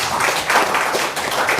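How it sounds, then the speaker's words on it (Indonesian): A church congregation claps together in applause, a dense, even patter of many hands at moderate loudness lasting a short moment, with no talking over it. "Iya, tepuk tangan juga buat Tuhan Yesus"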